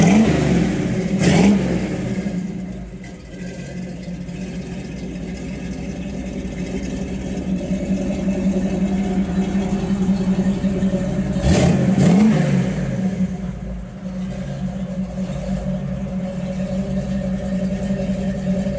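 A 1952 Chevrolet 3100 pickup engine fires up close by and settles into a steady idle, with two sharp revs swelling and falling back, the first early and the second about ten seconds later.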